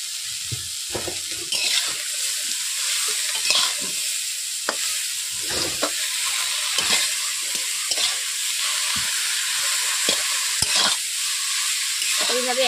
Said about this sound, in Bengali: আমি প্রথমে কুমড়ো ডাঁটাগুলোকে তেল দিয়ে ভালো করে একটু নেড়ে নিচ্ছি